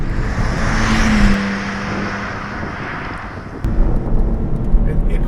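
A 2007 Mitsubishi Eclipse V6 drives hard through a corner, its steady engine and road roar filling the cabin and swelling louder again near the end.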